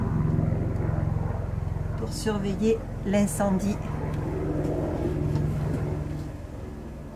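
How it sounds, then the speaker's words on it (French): A civil protection helicopter passes overhead near a Gironde wildfire, a steady low rotor drone that fades slightly toward the end while someone talks over it. "Un hélicoptère de la protection civile qui passe"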